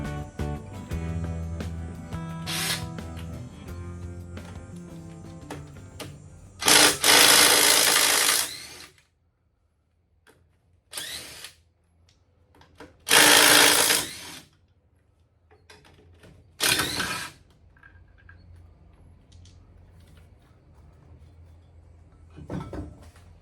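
A power tool rattles bolts loose from the body of a 1972 VW Super Beetle being separated from its pan, in several short loud bursts separated by quiet gaps, with a fainter mechanical hum at the start.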